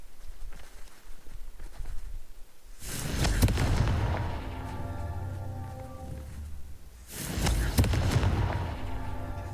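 Confringo and Bombarda spell blasts from the Hogwarts Legacy video game erupt in two heavy, booming explosions, each with a rumbling tail that fades before the next.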